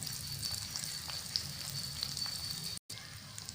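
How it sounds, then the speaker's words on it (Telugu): Telugu-style dried palm-leaf fish (tatak karvadu) frying piece by piece in hot oil in a kadai, giving a steady close hissing sizzle with small crackles and pops and a brief dropout near the end, with no talking. "తాటాకు కర్వాడు ఈ విధంగా నూనెలో ఒక్కొక్కటే వేసుకొని వేయించుకోవాలా"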